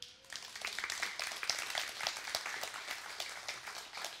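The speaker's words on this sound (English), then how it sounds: "give a round of applause to your groups team and your communications team" A church audience claps for its groups and communications team, a dense patter of many hands at moderate distance, steady for several seconds before tapering slightly, with no talk over it.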